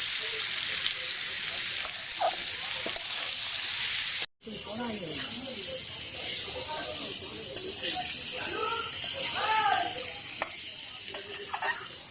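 Potatoes frying in a pan with salt and turmeric, cooked as a side for meat khichuri, give a steady close sizzle with scraping stir strokes, a brief cutoff near the middle, then continuous crackling hiss.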